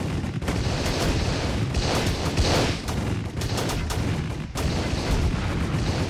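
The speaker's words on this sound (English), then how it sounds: "these rockets that are coming off these things will make short work of these Challenger tanks out there" Rockets fire against Challenger tanks in a video game, a dense, unbroken barrage of booming launches and blasts that rolls on at a steady loud level.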